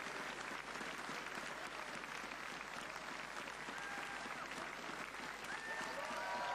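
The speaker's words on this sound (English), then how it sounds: "you can hear the crowd" Crowd at a pro cycling race finish in central Frankfurt cheers and applauds a popular winner, a dense continuous roar of clapping and voices held at steady loudness throughout.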